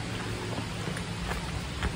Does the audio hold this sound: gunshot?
no